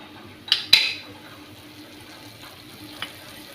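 Chana dal fries in a teaspoon of oil in a pan while spice powder is being made, giving a faint, steady sizzle broken by a couple of sharp metallic spoon clinks.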